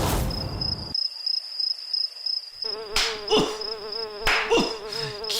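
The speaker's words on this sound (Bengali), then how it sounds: "সব রাক্ষসের মতো মশারে বাবা," Cartoon mosquitoes whine in a thin, sustained high buzz, which then drops out for a moment before several louder buzzing swoops return close by.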